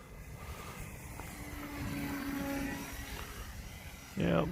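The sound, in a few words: RC foam board plane flying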